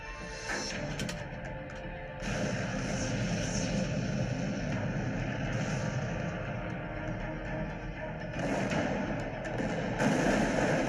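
Dense, continuous roaring rumble of heavy cannon artillery fire in a film battle scene, booming and crashing throughout with no pauses, loud and close.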